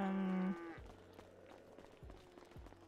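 A cow moos in a video game, one loud sustained low call up front, followed by quieter thuds and footsteps in the background.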